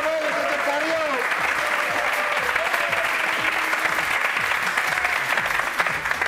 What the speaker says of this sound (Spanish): por favor, un fuerte aplauso a la señora.